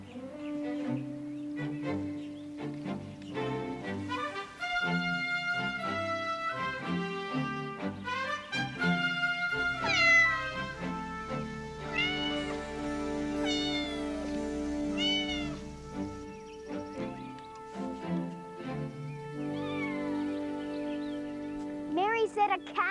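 A cat meows repeatedly in varied, drawn-out and rising calls over a backdrop of music and occasional voices, the meows clear and fairly close.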